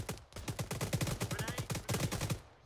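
Rapid automatic gunfire in Arma 3 during a combined-arms military operation: dense, steady bursts of many shots in quick rhythm, close and loud, continuing through nearly the whole stretch with a brief lull near the end.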